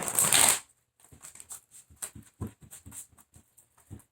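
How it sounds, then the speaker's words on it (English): A deck of tarot cards is riffled in a quick burst, then shuffled with soft, irregular flicks and slides, close up, with no talking. "I feel like I need to shuffle this more."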